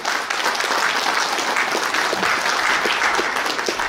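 Steady, full applause from an audience at a union branch's regular delegates' convention in Gyeongju, many hands clapping together throughout without a break.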